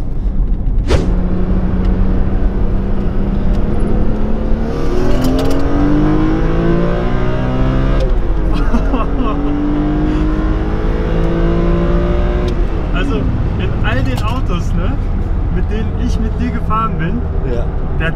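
BMW E46 M3 convertible, a US import, revving hard as it accelerates from 40 to 60, its engine note climbing in repeated rising sweeps through the gears, loud and close, with a person talking over it.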